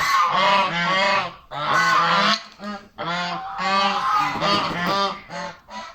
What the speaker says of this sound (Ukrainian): це білий, головний, тогорічний гусак